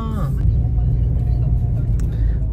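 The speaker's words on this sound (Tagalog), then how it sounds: "Traffic eh." Road traffic around a vehicle during a long, slow journey: a steady, close low rumble of engines and tyres, continuous for the whole stretch with no clear pass-by.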